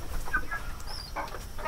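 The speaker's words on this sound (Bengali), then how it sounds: "দেখেন মুরগিগুলা ঢুকে যাচ্ছে ঘরের মধ্যে" Several chickens cluck in short scattered calls around a home pen where pigeons gather to feed, moderately close over a light background.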